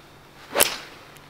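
A single crisp, sharp strike of a golf ball hit with a 5-iron on a course, a quick close whip-like crack that fades fast into quiet outdoor air.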